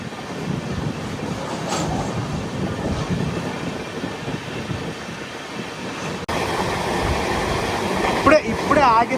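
An AP Sampark Kranti Express train rolls along with a steady, loud clickety-clack and rail rumble, the noise jumping louder partway through, with faint brief squealing near the end.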